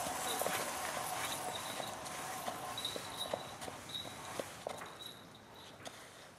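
A horse walks at a ranch cutting and roping training session, its hooves clip-clopping in a steady irregular rhythm over constant background noise, with someone talking at moments.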